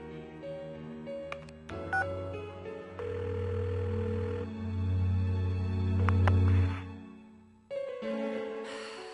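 A phone call in the Persona 4 video game: short dial tones, then a steady ringing tone that keeps going before cutting off, ending in a brief electronic chime.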